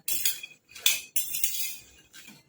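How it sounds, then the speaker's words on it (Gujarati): A metal spoon scrapes and clinks against a pan as peanuts are stirred while dry-roasting on a gas stove, in several quick, bright bursts of rattling with short pauses between them, close and fairly quiet. "આ રીતે કન્ટિન્યુઅસ હલાવતા રહીશું આપણે, જેથી સિંગદાણા સરસ શેકાઈ જશે."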